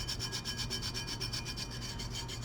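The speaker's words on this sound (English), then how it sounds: "Rubbing it with my finger actually seems to help press it down even more." A fingertip rubbing glitter on a Mod Podge–coated tumbler, giving a steady, close, gritty scratching with a fast even back-and-forth rhythm throughout and no talking.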